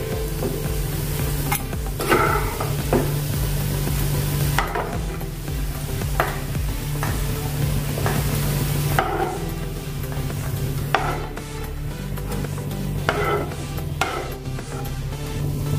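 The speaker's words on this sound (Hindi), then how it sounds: "हमने प्याज को तला है, तो अभी इसको हम निकाल देंगे।" Onions frying in hot oil in a pan for a spicy rice dish, a loud continuous sizzle broken by scraping and clattering as a utensil stirs and lifts the fried onions out, close by, with no speech.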